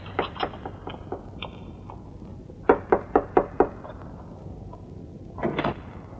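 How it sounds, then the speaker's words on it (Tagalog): Several series of sharp knocks on a door, a slow scattered group first, then a quick run of five firm raps close by, and a softer flurry at the end, with no voices. "tignan mo na tuloy kung sino yung kumakatok."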